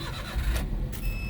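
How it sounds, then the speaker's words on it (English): A 2018 Daihatsu Hijet Jumbo Cab mini truck starts up: a brief cranking whir catches and settles into a steady small-engine idle, close and clear. "I'll start the engine up."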